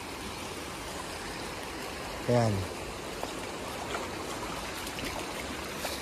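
A small natural stream with flowing water, drinkable and crossed by a water bridge, runs as a steady broadband rush throughout, with a brief voice heard once over it.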